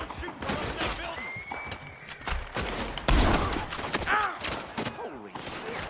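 Gunfire in the Red Dead video game, a rapid fusillade of overlapping shots at varied distances, with hoofbeats and a voice shouting over the battle.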